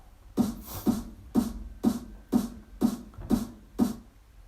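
Eight punchy snare hits land in a steady, evenly spaced rhythm, each with a thick body and a bright, crisp crack. No voices.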